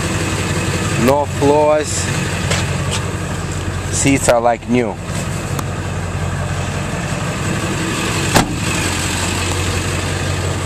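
A 2000 Ford F350 pickup with a 7.3L diesel engine idles in a low, steady rumble throughout, while someone talks over it close by.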